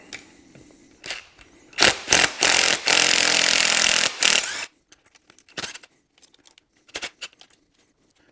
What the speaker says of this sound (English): Now we can just take these bolts out.